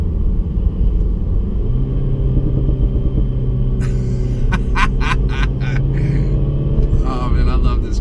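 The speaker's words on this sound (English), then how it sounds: "crackle, pop here when we downshift" Mini Cooper S exhaust crackling and popping on a downshift, sharp irregular bursts over a steady low engine rumble, with a few close snaps clustered toward the end.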